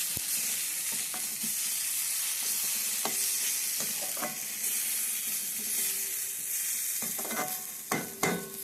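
Chilli powder and coriander powder being stirred into a sizzling egg curry, with scraping clicks of a spoon over continuous frying hiss.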